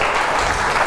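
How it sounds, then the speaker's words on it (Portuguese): A church congregation claps in a brief, dense burst of applause that fills the moment without any voices. "Então vamos aplaudir mais uma vez"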